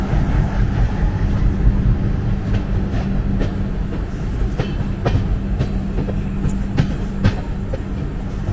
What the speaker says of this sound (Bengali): রাত 1:21 আমাদের ট্রেন এই মুহূর্তে ঢুকলো মালদা টাউন স্টেশনে।